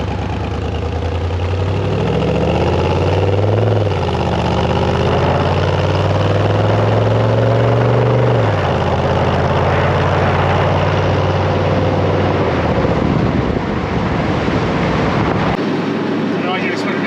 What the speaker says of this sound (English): that LS1 with the 4L60E 4-speed transmission, I mean, it just